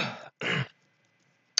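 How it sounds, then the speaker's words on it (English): A sick person coughs twice in quick succession, close and fairly loud, with a short sharp throat sound a moment later, in an otherwise quiet room. "Excuse me for the coughing, I'm just kind of sick right now."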